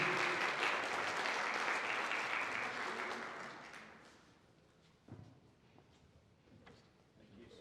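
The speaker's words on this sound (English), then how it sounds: "A round of applause, a round of clap, please." An awards ceremony audience applauds loudly, the clapping fading out over a few seconds, followed by a few scattered knocks and taps in a quieter room.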